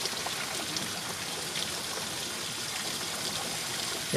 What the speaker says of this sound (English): Big time rainstorm here in Fort Worth, Texas.